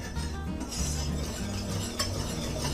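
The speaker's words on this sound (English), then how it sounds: "I'm just going to whisk it together." A whisk stirs black pepper, kosher salt and baking powder together in a bowl, making a continuous scraping, rustling swirl with a small clink near the end.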